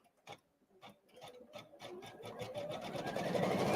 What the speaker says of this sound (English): And then we can press start again and we can start stitching this out.